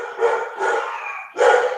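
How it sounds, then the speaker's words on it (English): Dogs bark indoors in a house, three loud, close barks in a quick irregular burst. "Can you hear my dogs?"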